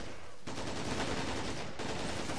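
Dense barrage of gunfire in the World War II strategy game Men of War: Assault Squad, set on D-Day: a loud, continuous crackle of rapid shots that starts abruptly, runs unbroken for about two seconds with a brief dip, and has no talk over it.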